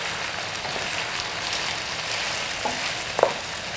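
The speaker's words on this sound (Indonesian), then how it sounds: "Nah kita tumis dulu ya, bareng-bareng dengan ayamnya." Chicken sautés in a pan with onion, ginger and garlic, giving a continuous soft sizzling hiss with a couple of small clicks near the end and no speech.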